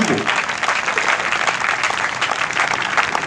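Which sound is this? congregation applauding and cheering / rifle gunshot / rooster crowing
congregation applauding and cheering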